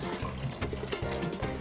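Water runs steadily into a cooking pot holding tomatoes and beans, a continuous close splashing gush with low rumbling throughout, no voices.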